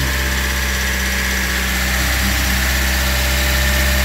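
Loud, steady Daihatsu Sigra car engine fitted with a BlackCore catalytic converter, running close by with a continuous rumble, rising slightly in pitch toward the end.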